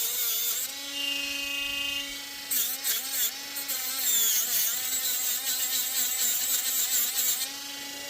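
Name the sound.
rotary tool sanding copper ring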